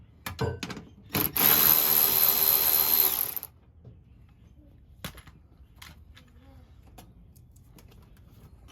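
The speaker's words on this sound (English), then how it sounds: "I'm gonna undo these two 10 millimeter screws or bolts" A power tool whirs loudly for about two seconds, backing out 10 millimeter bolts from a vehicle panel, followed by light clicks and faint handling noises while the tool rests nearby.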